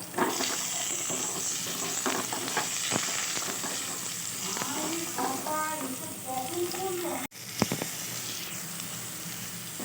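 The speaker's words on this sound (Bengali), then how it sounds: "এবার আমি পটল ভাজা তেলের মধ্যে একটু আলুগুলোকে ভেজে নেবো" Potatoes fry in oil left over from frying pointed gourd, making a soft, steady sizzle with scattered pops and a sharp knock near the end, while a voice murmurs briefly in the middle.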